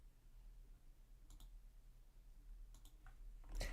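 Computer mouse clicks, faint and close: a lone click, then a quick pair a little later, then one more, over a quiet background hum with no talking.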